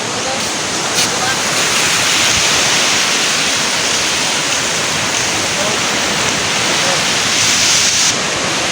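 Strong sea waves pound a sandy beach after a stormy night, a continuous loud roar of surf mixed with wind and rain noise, with no clear breaks between waves.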